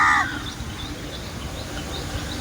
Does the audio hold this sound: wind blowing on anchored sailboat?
no